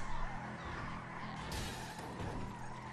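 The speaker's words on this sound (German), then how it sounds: "der Wagen, der rutscht mir viel zu krass" A car in the GTA Online game slides and skids with a steady engine roar and broad tire noise, with a sharper screech partway through, loud and continuous.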